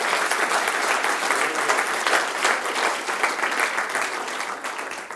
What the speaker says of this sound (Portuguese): e se você crê, aplauda forte o nome dele.